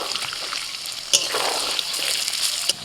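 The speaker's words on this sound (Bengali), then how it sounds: "এবার ওই তেলের মধ্যে আলুটাও ভাজছি।" Chandramukhi potato pieces fry in the oil just used for jackfruit, for a jackfruit and egg biryani. A steady, close, crackling sizzle runs throughout with a couple of sharp pops.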